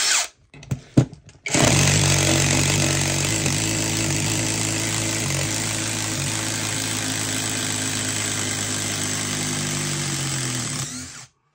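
Copy version of a Makita TD173 impact driver backing a bolt out, a few short bursts, then a steady loud continuous rattling hammer-whine for about ten seconds, up close with no talking.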